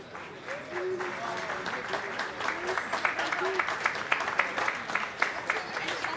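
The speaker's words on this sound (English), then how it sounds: "Big round of applause for all our finalists." Applause for the finalists at a cup presentation, a broad sustained clapping from a crowd with some voices beneath it, steady and fairly loud throughout.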